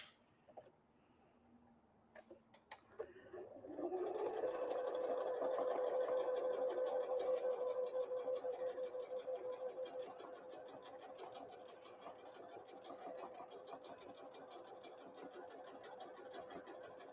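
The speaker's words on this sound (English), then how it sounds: "I'm just going to clip this in place while I top stitch around this one" After a few clicks and rustles, a sewing machine top stitches around a Christmas tree napkin, running in a steady close hum for over ten seconds and then slowing slightly toward the end.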